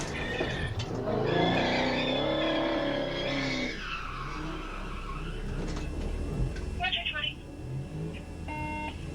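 A car revs hard during a police chase while it spins donuts, the engine howling in rising and falling whines. A commentator talks over it and short electronic beeps come through later.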